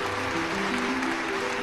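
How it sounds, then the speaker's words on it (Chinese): A studio audience at a Chinese fashion makeover show claps steadily, a dense continuous applause heard over background music. "我们要不要掌声鼓励他一下"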